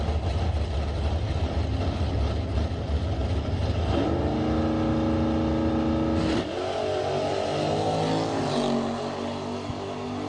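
Drag race cars launch off the line at a Sunday working-man bracket event, one of them the Gone Bananas 1971 Duster, engines roaring loud and close with rising revs and a sharp shift midway.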